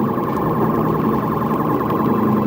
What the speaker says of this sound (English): As lights and sirens came on